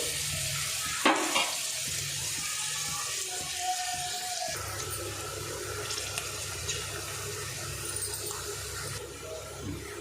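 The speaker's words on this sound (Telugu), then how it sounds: "మధ్య మధ్యలో కలుపుకుంటూ మనం వేసుకున్న ఆనియన్, పచ్చిమిర్చి బాగా ఫ్రై అయ్యే వరకు ఫ్రై చేసుకోవాలి." Onion and green chilies frying in a pan for a village-style fish curry, a continuous close hiss with occasional stirring clinks and scrapes and no voices.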